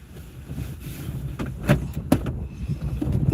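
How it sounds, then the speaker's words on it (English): Wind gusts build outdoors beside a river, buffeting the microphone with low rumbling surges that grow louder toward the end, with a few sharper thumps and no talk. "The wind is starting to build up."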